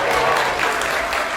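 A quick burst of applause from an audience watching a juggling act, dense clapping fairly close and loud, brief and steady.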